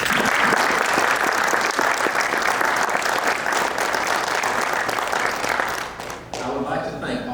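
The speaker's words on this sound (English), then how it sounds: "please join us in a round of applause for the 2020 and the 2021 recipients of the Paris High School Distinguished Graduate Awards" Sustained applause from an audience at a high school distinguished graduate awards ceremony, dense and loud, easing slightly near the end before continuing.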